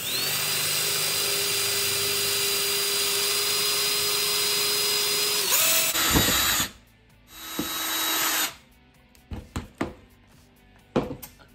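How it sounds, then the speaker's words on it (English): A drill bores holes into a round ice sphere made in a whiskey sphere mould: a steady high-pitched whine runs for several seconds, then stops and restarts briefly before a few sharp clicks and taps. "we're gonna wanna get that liquid out of the middle. Drill it."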